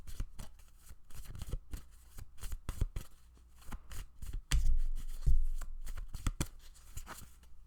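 A deck of cards is shuffled by hand for a pick-a-card reading, giving a close, steady run of crisp riffling slaps and flutters with a few heavier thumps, lasting several seconds with no talking.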